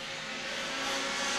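Pure stock race cars running wheel to wheel down the back straightaway at Star Speedway during a heat race, a loud, steady engine roar with broadband noise that swells slightly as the pack holds close.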